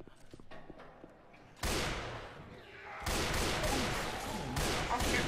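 Gunfire in the co-op zombie shooter Left 4 Dead 2 on the Dead Center campaign, loud rapid bursts of automatic fire that come in sustained volleys, with faint in-game sounds in between.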